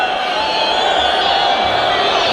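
Dense, steady roar of a stadium crowd at an African Cup football match in Algeria, loud and continuous throughout with a wash of cheering voices and no single speaker standing out.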